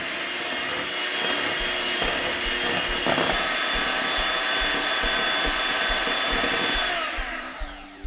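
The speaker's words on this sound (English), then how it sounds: "mix them in the bowl with a mixer." An electric mixer beats brown sugar in a bowl, a steady loud motorized whir with a high whine running unbroken for several seconds before easing off near the end.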